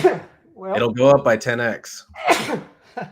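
A single sneeze set off by cigar smoke up the nose, mixed in among close male speech on a late-night chat.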